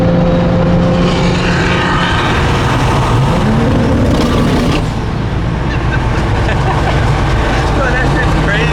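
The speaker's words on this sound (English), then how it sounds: "you just put it in neutral and rev the gas" A loud Mk4 Toyota Supra big-turbo 2JZ engine roars and revs up and down steadily in neutral, with people talking over the noise nearby.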